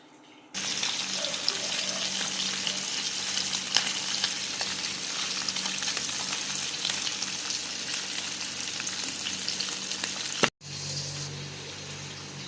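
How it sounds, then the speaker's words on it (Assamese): Fish fries in hot oil in a pan on a gas stove, a dense, even hiss that starts after a moment of quiet, runs steadily, then cuts out briefly before resuming near the end. "এতিয়া মই মাছখিনি তেলটো গৰম হ'লে মাছখিনি ফ্ৰাই কৰি লওঁ।"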